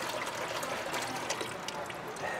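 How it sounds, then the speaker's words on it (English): Water carrying about twenty glass eels poured through a net, a steady close trickling and splashing stream throughout, fairly quiet. "I'm gonna pour these 20 eels through the net"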